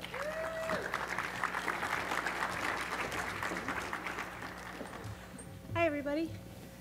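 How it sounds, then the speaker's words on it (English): Audience applause at a virtual reality conference as a speaker is welcomed to the stage, a steady patter of clapping that tapers off, with a brief whistle or cheer near the end. "Let's give her a warm round of applause."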